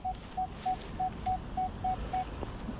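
A metal detector in a UK field gives a short series of eight evenly spaced beeping target tones, each brief and clear over faint outdoor background noise, with no talking.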